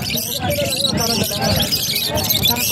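Many birds chirp and call at once in a dense, busy chorus at an outdoor pet market in Bocaue, Philippines, with people talking underneath the constant twittering.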